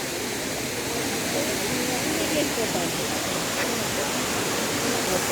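Abbey Falls in Coorg roaring at close range, a loud, constant rush of falling water with no breaks and no voices over it.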